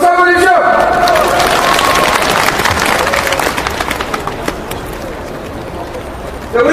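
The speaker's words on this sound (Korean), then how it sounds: "박수 한번 주십시오" Audience applause at a rally against KTX railway privatization, a dense burst of clapping from a crowd that starts loud and slowly thins out over several seconds.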